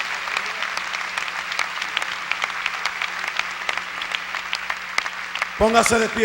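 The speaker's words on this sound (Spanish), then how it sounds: "Dele un aplauso bien fuerte al Señor." Church congregation applauding during a Spanish-language sermon, a long run of dense, crisp hand claps at moderate distance with a low hum beneath, ending as a voice and music swell in.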